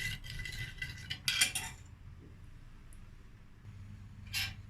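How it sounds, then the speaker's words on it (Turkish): A spoon clinks and scrapes against a pot while a sugary gummy candy mixture is stirred, with a few bright metallic taps early on and a quiet kitchen background afterward. "Şöyle karıştıracağım."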